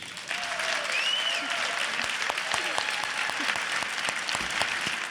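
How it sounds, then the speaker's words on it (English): Sustained audience applause fills a State of the City event hall, dense and steady clapping from a large crowd with a few brief tonal sounds and scattered voices mixed in. "please give a round of applause to Assemblyman Jim Kennedy."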